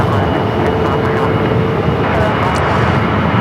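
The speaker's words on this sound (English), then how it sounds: "Double takeoff action on the 7s." Jet airliners take off from runway 7 at Phoenix Sky Harbor, a loud, sustained engine roar heard from near the taxiway, with a person talking over it.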